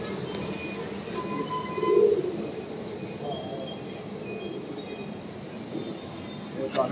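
A soft pigeon coo from an old pigeon rises briefly out of a constant low rumble in Samanabad, with scattered faint bird calls and background murmur around it.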